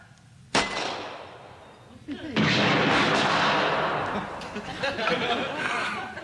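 A sharp single gunshot followed by a louder, sustained volley of heavy gunfire that rumbles and echoes for several seconds, with voices underneath.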